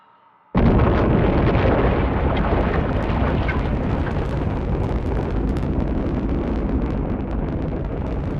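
A Mercury rocket lifting off, heard as a sudden onset of a massive continuous roar that stays loud and dense, crackling and rumbling for several seconds without letting up.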